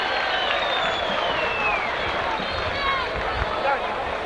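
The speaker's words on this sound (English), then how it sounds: "He makes no mistake, and his fans cheer him." Warrington rugby league fans cheer a successful goal kick by Hesford, a broad crowd roar sustained throughout with a commentator speaking over it.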